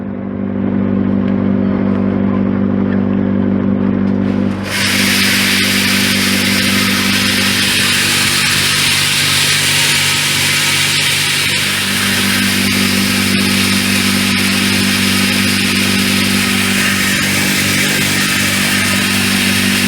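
A homemade grain winnowing machine with its fan turned up to a higher speed, a loud steady mechanical roar with a motor hum that jumps up in intensity a few seconds in and then holds continuously to the end, no talking.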